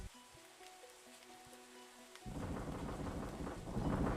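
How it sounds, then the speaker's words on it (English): Rain and rolling thunder from the video game Pokemon Reborn, a quiet stretch with game chimes giving way to a loud, steady downpour that swells toward the end. "Why is it always raining?"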